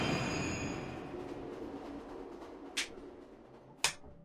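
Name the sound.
train moving, from video game Remember the Flowers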